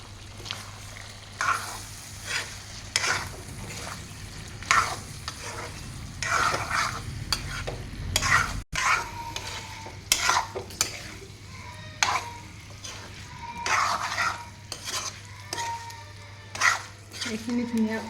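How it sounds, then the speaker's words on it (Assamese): Chicken curry with fried potatoes and tomatoes being stirred in a pan in Assamese style, with repeated scraping and stirring strokes over a steady low sizzle, close and moderately loud. "এইখিনি মই ধুনীয়াকৈ মিলাই লওঁ।"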